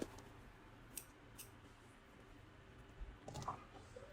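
Scissors cut colored crochet yarn for a bag, making a few faint, close snips and light clicks against a quiet room background.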